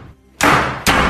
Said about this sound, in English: All of a sudden, the door started to shut.